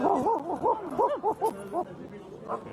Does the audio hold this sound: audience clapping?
no